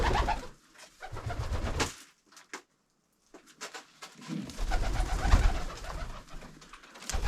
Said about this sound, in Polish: Ok, widzę, odzywają się tutaj gołąbki.